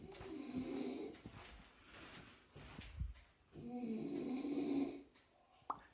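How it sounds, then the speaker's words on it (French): Two slow, rumbling snores rise and fall, soft and close, with a faint click at the end. "si vous entendez un petit ronflement"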